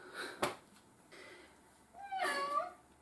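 A cat meows softly a couple of times, with a longer drawn-out meow near the end, close by in a quiet room.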